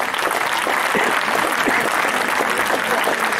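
A crowd applauds the headmaster and his team at a school event, with loud, steady, dense clapping that continues evenly throughout.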